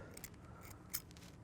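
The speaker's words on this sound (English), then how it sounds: "oh, scissors aren't so sharp." Dull scissors make a few faint snips while trimming fishing line after a snell knot has been tied on a hook, with crisp clicks and a slightly louder cut near the end.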